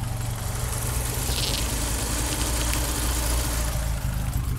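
Close-up idle of a 1980 Fiat 2000 Spider engine recorded near the belt low in the engine bay, a loud, steady mechanical hum and rumble with constant vibration and no talking.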